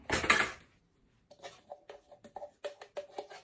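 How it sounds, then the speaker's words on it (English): Remains scraped out of a can, likely frozen lemonade concentrate for watermelon lemonade, in a run of short metallic scrapes and taps at close range after an opening rustle. "Scrape a little bit of this out."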